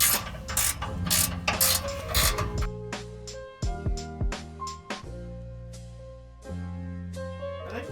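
Ratchet clicking in short rapid bursts while tightening exhaust bolts on a Subaru Impreza WRX during a cat-back exhaust install, with metallic clanks and pauses between runs, close and fairly loud.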